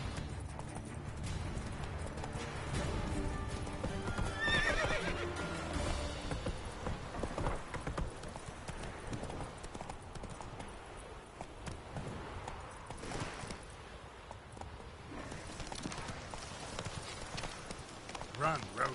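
Roach the horse galloping in The Witcher 3: Hearts of Stone, with a steady rapid clip-clop of hooves running throughout, joined by game ambience and a voice speaking over it.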